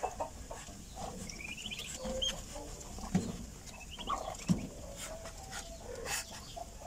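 Farm poultry, with many chicks among them, make scattered clucks, cheeps and gobbling calls over a low outdoor background. The calls come at irregular moments, some near and some farther off.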